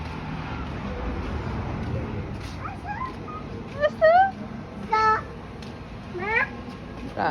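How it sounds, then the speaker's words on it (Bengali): A cat meows three or four times, short and fairly close, over quiet background noise and faint distant traffic, with people talking nearby. "Cute cat."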